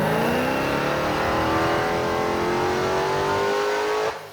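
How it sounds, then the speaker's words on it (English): Hellcat-swapped Nissan 350Z on a dyno, engine roaring loud and steady as revs climb and the tires spin, then cutting off abruptly at the end. "band stance tires he has on this thing roasting on the dyno, even at such a low power."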